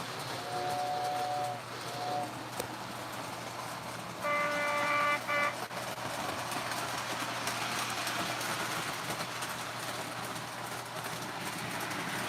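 A model train runs slowly on a home layout with a steady rolling rumble, and a whistle toots briefly twice near the start and again midway, close and continuous throughout.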